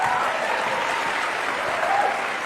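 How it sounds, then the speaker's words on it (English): A live audience bursts into a round of applause at a talk, dense steady clapping from many hands filling the room for a couple of seconds without pause. "Another round of applause."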